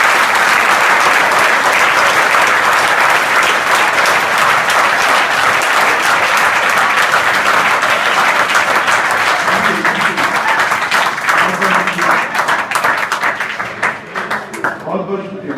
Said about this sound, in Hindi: चलो एक जोरदार ताली करो